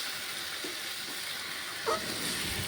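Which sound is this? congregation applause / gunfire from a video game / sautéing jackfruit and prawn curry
sautéing jackfruit and prawn curry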